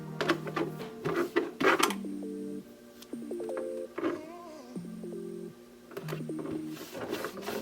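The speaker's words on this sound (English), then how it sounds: "But the Dremel was kind of necessary for this thicker body." A Dremel rotary tool's motor whines in short bursts, pitch rising and falling as it spins up and bites into a thick plastic RC truck body, with pauses between cuts.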